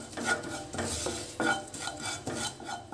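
A spoon scrapes and clatters against a pan while cumin and ground black pepper are stirred and roasted, giving irregular close metallic scrapes and knocks with no talking.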